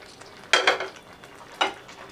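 Paneer pieces being stirred into masala gravy in a pan, two distinct bursts of spoon scraping and clinking against the pan, close and fairly quiet, separated by a pause.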